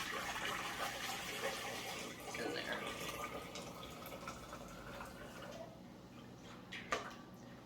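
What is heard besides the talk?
pouring hot water into canner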